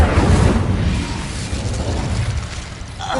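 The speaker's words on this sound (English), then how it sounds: "Incendio!" A fiery blast from the Incendio spell in Hogwarts Legacy on PS5, a loud whooshing burst at the start that fades into a low rumbling roar.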